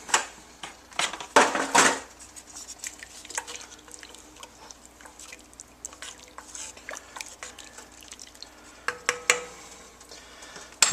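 Bay leaf and Cajun seasoning stirred into a pot for red beans and rice, with scattered clinks, scrapes and wet sloshing at varying loudness, including a louder burst of clattering near the start.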